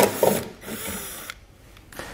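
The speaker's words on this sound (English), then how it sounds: "we'll remove this one using an 8 millimeter socket" A fastener is backed out with an 8 millimeter socket during hitch installation on a 2019 BMW X3, giving a few quick, close ratcheting clicks and whirs that fade into quiet.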